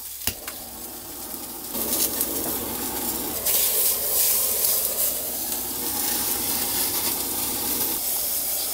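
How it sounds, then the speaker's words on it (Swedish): A blowtorch sears a sous vide entrecote steak, giving a steady roaring hiss with crackling sizzle that swells and holds throughout at close range. "Jag steker ungefär 20-30 sekunder, men jag hjälper till med en brännare."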